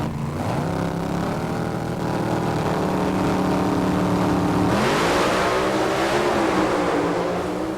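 Sportsman drag racing cars with Hemi engines launching at the NHRA finals in Pomona, a loud sustained engine roar with rising pitch that surges sharply midway as the cars accelerate away, continuous and without talk.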